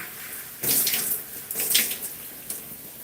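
Water runs close by in uneven bursts from a tap while curly hair is washed, surging and easing several times against a quiet background.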